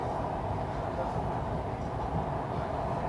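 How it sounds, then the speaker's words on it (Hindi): Mumbai Metro train on the Andheri to Dahisar line pulling away from a station, a steady loud low rumble and hum filling the whole stretch from close inside the car. "अपनी मेट्रो चलने के लिए तैयार है फिर से।"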